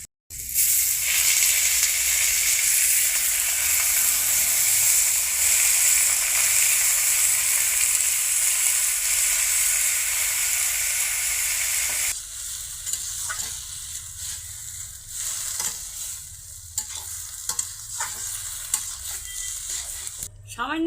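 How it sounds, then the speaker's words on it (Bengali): Loffa greens tossed into a hot pan of oil with lentils, dried chilies and bay leaf hiss with a loud, dense sizzle that later settles into quieter frying broken by stirring scrapes and taps. "শাকগুলো এখন আমি কড়াইতে দিয়ে দিই"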